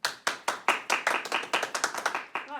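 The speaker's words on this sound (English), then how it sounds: "Shall we give our year 1 children a big clap?" Year 1 children clap together at a school assembly, about fifteen quick, close, sharp claps in an uneven rhythm that slows into separate slaps near the end.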